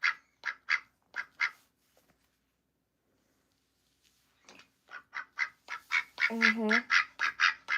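A pet duck quacks indoors in two bursts of loud, rapid, evenly spaced quacks, separated by a few seconds of quiet, with the second run growing denser and more insistent; a person murmurs briefly.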